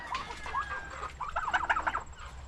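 Several chickens cluck on a farm during Sunday morning chores, with a quiet stretch first and then a busier run of close, overlapping clucks toward the end.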